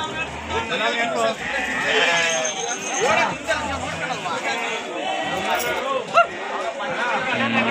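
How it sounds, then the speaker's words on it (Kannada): Several sheep bleat repeatedly nearby at the Magadi sheep market, overlapping calls from a flock, with a person talking intermittently underneath. "ಇಲ್ಲೊಂದು ಗುಂಪು ಕುರಿ ಬಂದವು ನೋಡಿ"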